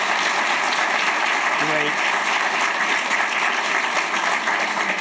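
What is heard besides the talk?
round of applause for idea track winners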